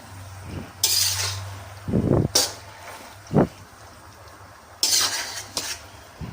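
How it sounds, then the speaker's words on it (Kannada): Pasta being mixed in a pan with a metal spoon, a series of close scraping clinks and knocks against the cookware in irregular bursts with quiet gaps between. "ನೋಡಿ, ಪಾಸ್ತಾ ಎಲ್ಲ ಮಿಕ್ಸ್ ಮಾಡ್ಕೊಬೇಕು."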